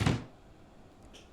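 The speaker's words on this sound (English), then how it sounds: "Now we'll just close the door." A single soft thud of a door shutting in a hotel renovation video game, brief and fairly quiet, followed by faint room tone.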